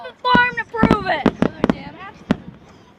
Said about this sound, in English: These fireworks are as bright as my future.